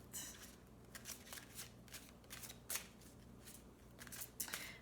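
Tarot cards being shuffled, a faint, close, continuous riffling and shuffling with soft rhythmic flicks throughout.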